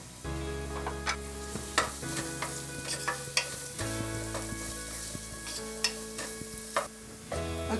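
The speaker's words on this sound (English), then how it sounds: "I'm going to put both my onions and garlic at the same time. You want to hear that sound?" Onions and garlic saute together in a pan for a vegan potato soup, a steady sizzle with recurring sharp crackles and stirring scrapes, over a quiet sustained musical tone in the background.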